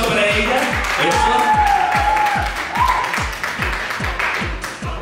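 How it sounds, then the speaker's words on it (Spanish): Audience applause at a televised gala launch show fills the room as a steady, loud wash of clapping over a thumping rhythmic beat, with a voice rising above it. "Fuerte el aplauso para ella."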